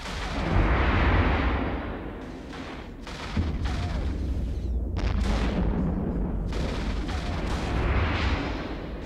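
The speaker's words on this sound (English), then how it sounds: "I will start with a heavy assault missile." Heavy assault missiles launch and strike in a space combat game, a continuous loud rumbling roar broken by repeated booming bursts, with no voices present.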